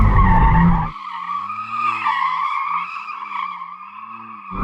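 Tires skid and squeal in a long, loud wavering wail as a McLaren Artura plug-in hybrid supercar drifts with variable drift control engaged, loud engine roar at the start and end.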